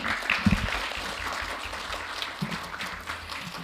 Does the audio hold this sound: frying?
no